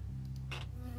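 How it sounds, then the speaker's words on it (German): A bee buzzes briefly in the video game Firewatch, a short close insect drone rising over a steady low game hum. "Eine Biene."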